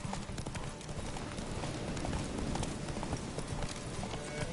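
Roach the horse gallops in The Witcher 3 video game, a dense, steady drum of hoofbeats running continuously at close range with a constant wash of ambient noise behind it.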